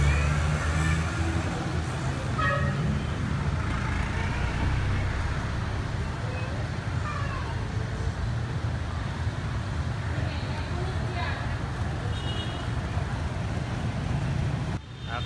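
Busy rush-hour road traffic, a steady low rumble of many cars and buses close by, continuous throughout with faint voices mixed in.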